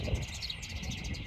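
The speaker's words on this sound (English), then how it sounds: "So some like birds in that bush going insane." Small birds chirp and twitter in a bush at Lydford Gorge in Devon; the brief, faint, busy calls sit over soft outdoor ambience.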